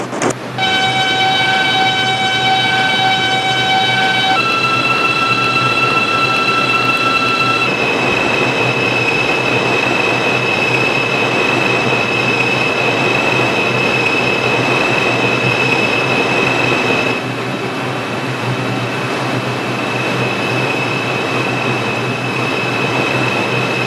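An R142 subway train on the 6 local line toward Union Square runs loud and close, with a steady rolling rumble and high, sustained tonal whines from its motors that step down in pitch early on.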